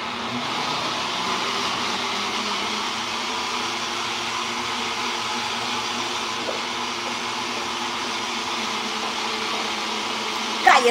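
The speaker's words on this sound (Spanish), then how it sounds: "allá afuera estoy licuando" A blender whirs steadily, blending pozole ingredients for chicken pozole, a continuous mid-level motor drone heard from a short distance and ending in a brief clatter.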